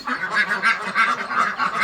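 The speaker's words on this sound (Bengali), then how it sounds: "এগুলো আমাদের হলো পিকনিক স্টার অরিজিনাল হাঁস।" Pekin ducks kept at a farm honk and quack in a continuous nasal chorus, several birds calling over one another at close range with no talk.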